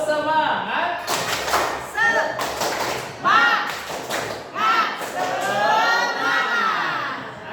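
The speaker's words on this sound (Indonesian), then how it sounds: "Kita tepuk semangat dulu." A group of women claps the rhythmic Indonesian 'tepuk semangat' spirit clap as an icebreaker at a teachers' training session, sharp claps and thumps landing in a pattern with shouted chanting voices over them throughout.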